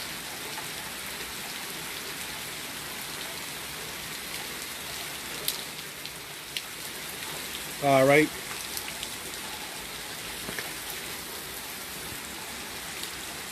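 Steady rain pours down on a stormy day, a constant broadband hiss throughout, with a brief voice speaking once near the middle.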